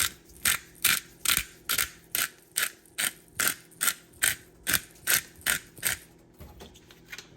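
A pepper mill grinds black pepper over a pan of shrimp broccoli alfredo, a steady run of about fifteen dry ratcheting crunches at an even quick rhythm, close and clear with no talk.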